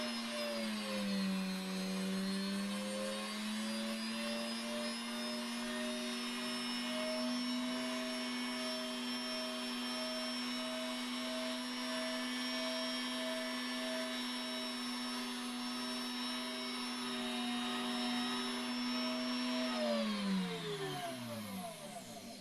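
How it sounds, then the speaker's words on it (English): A motor-driven handpiece blade whirs at medium speed while cutting jump rings from a coil. The steady, close whine shifts pitch slightly as the cut begins, holds level, then spins down at the end. "we want about medium speed on the motor. And then I'll pull the handpiece slowly towards me"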